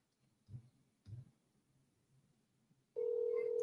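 A telephone ringing heard through a phone held right beside the microphone, starting as a loud, steady tone near the end after a few soft knocks and handling sounds.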